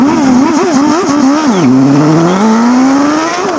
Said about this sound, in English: die klank van 'n engine se toere wat opgejaag word